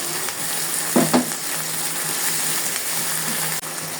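Ginger and garlic paste frying in a pan with a little water added, a steady sizzling hiss with a brief splash or stir clatter near the start, moderate and unbroken by speech.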